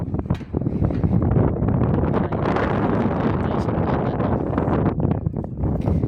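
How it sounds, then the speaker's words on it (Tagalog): Strong wind roars and buffets the microphone continuously during overhead power line stringing work, loud and close, with rustling flutter throughout. "malakas yung hangin"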